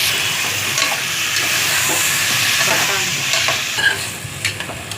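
Potatoes going into browned onions in a pan for aloo matar kurma, with a bright continuous sizzle and occasional scraping stirs, close and loud, without talk.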